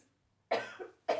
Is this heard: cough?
yes